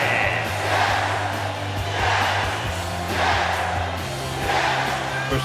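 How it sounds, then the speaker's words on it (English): Video game arena crowd from WWE 2K23 at a wrestling entrance, a broad roar of cheering that swells and fades in slow waves over steady low music. "Of course, the crowd loves him."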